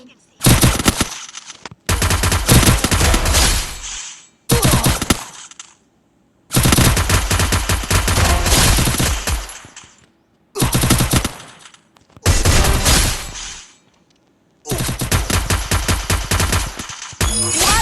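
Rapid automatic gunfire from the mobile battle game Free Fire, loud bursts of several seconds each separated by short pauses, repeating throughout with no talking.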